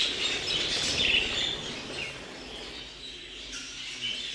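Budgerigars chirping at a show aviary, a continuous high twitter with a louder burst early on before settling into soft, steady chatter.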